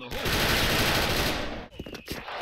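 Dual MP9 submachine guns firing in the online shooter SF, a dense rapid burst of automatic gunfire that runs loud and unbroken for over a second, then breaks into scattered sharp shots.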